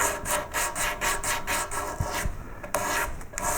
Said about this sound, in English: One little trick here is to fold the sandpaper.